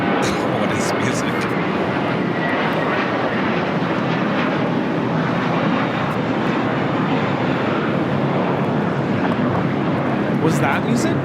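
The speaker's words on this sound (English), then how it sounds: "It's American Flight 4 taking off to JFK on an A321." An American Airlines A321 airliner taking off from LAX gives a sustained, loud, broad jet roar that holds steady throughout, with a few faint clicks near the start and end and no talk over it.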